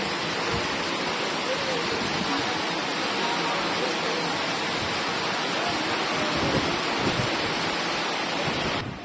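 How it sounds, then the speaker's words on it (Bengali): Heavy rain pours into a house near a balcony, a dense, loud, unbroken roar of falling water with a faint low rumble underneath, continuing steadily until it cuts off. "কি খারাপ অবস্থা দেখুন ঘরের মধ্যে বৃষ্টি ঢুকে যাচ্ছে"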